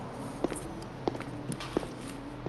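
Footsteps in the video game Love and Deepspace, four soft, evenly spaced steps landing about every two thirds of a second over a quiet low ambient bed, no voices.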